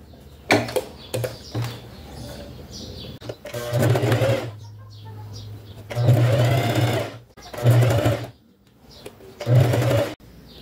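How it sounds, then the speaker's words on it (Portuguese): A sewing machine stitches a Christmas fabric cover for a gas cylinder in several loud, close bursts of rapid whirring, with short pauses between runs. "E faço isso aqui, dobro e dobro aqui em cima. E vamos costurando."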